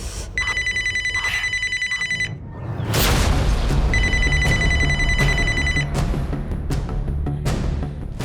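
An old-style telephone bell rings in two long bursts, separated by a pause filled with low rumbling and scattered knocks.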